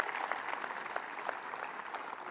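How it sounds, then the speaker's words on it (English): An audience at a commencement ceremony claps in sustained applause for distinguished alumni, a dense steady patter of many hands filling the hall from start to finish. "raise a big round of applause to all the distinguished alumnus"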